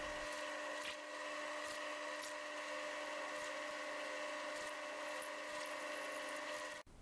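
A steady, high-pitched machine whine of drilling a 3.8 mm pilot hole into stainless steel runs continuously at low level, ending with a brief clunk.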